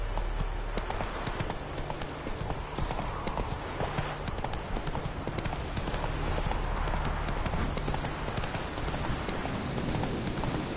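The horse Roach trots in a video game, a steady, fast clip-clop of hooves running continuously and loud over a dense wash of background noise.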